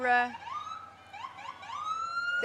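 An ambulance siren in a Christmas parade in Somersworth, New Hampshire, during a snowstorm, wails nearby, rising and sweeping in repeated yelps before settling into a long steady tone, with a short blast at the start.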